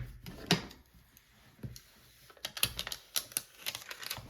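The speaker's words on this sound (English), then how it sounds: "I will burnish this down." A scraper tool rubbed and tapped over Cricut vinyl layered onto a craft project, giving quiet, dry scratchy strokes and clicks in uneven bursts, close and alone.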